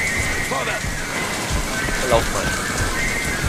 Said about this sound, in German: Ein stürmischer Regen hier.